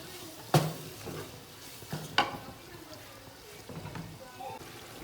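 Tomato, onion and whole spices are stir-fried in a pot for chicken biryani: a few sharp spoon clanks against the metal over a faint sizzle, with someone speaking at times.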